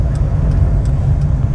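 A car engine hums low and steady close by as the driver presses the accelerator during a road driving test, a continuous rumble with faint road noise and no voices.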